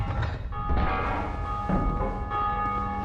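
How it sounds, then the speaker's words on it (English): A large bell tolls in the Belfry area of the video game Dark Souls II, ringing out with long resonant strikes over the game's low background rumble. "Oh, look, I rang your bell."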